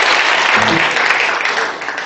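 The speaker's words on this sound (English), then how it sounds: "I know that it's very easy to get a round of applause out of you" Steady audience applause at a science lecture on the Milky Way, loud and dense throughout, with a brief faint voice murmuring underneath.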